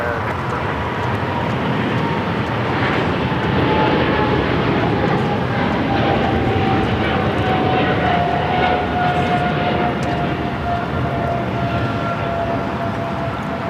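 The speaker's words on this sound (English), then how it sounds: "This is Singapore Airlines Flight 11 taking off to Tokyo Narita on the 777-300ER." A Singapore Airlines Boeing 777-300ER takes off at LAX, its loud sustained jet engine roar filling the air with a steady rising whine, no voices.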